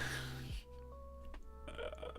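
A single loud burp in the foreground, a drawn-out low rumble lasting about half a second and then tailing off, with faint background tones afterward.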